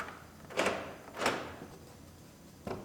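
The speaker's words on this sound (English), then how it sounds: "we're ready to set our door panel up there and smash it onto the door" An Acura RDX interior door panel is pressed and smacked onto the car door, giving three separate dull thumps with quiet gaps between them.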